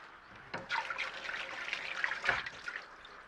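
Pufferfish pieces rubbed with salt and rinsed under running water in a kitchen sink, steady splashing and trickling with a couple of louder gushes, close and moderately loud, no talking.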